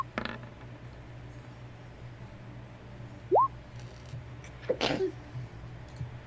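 A single sharp sneeze bursts out once, close and loud, over a quiet room hum during a tabletop roleplaying game session, with a couple of softer small sounds scattered around it.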